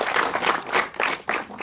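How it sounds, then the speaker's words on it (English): Applause at a community lecture on aluminum recycling, a short burst of clapping from a modest audience, uneven, with dips and surges. "So let's give a round of applause for Ms. Habiba Marashi for all the good work"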